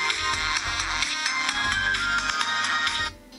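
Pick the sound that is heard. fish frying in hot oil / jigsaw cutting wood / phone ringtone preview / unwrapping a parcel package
phone ringtone preview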